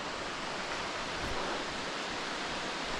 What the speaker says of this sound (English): Anyway, more waterfall.